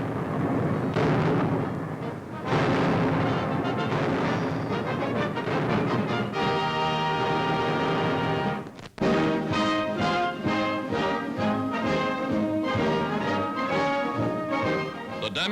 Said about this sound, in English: Artillerymen back up the infantry